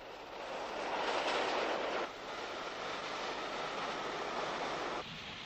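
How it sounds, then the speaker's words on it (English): The LNER A2 Pacific steam locomotive Blue Peter, from a 1943 class, runs past with a loud, steady rushing rumble and breathy roar that shifts in level partway through, with no voices. "Some notable passenger locos emerged during the war, such as the LNER's A2 Pacifics, which dated from 1943, represented here by the sole survivor, Blue Peter."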